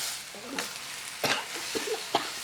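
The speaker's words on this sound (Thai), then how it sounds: "อ่าแล้วเราก็คั่วไป คั่วจนมันสุกนะคะ" A northern Thai dish dry-roasts in a pan, with quiet sizzling under a few scraping, stirring strokes that come at irregular intervals.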